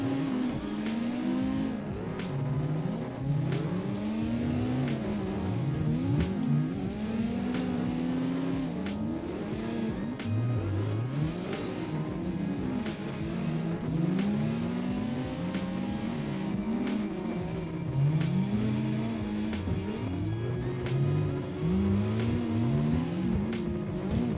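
A car in CarX Drift Racing Online revs hard while drifting, its engine rising and falling in repeated wavering sweeps, steady and loud throughout the game play with no speech.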